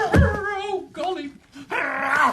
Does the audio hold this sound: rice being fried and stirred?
no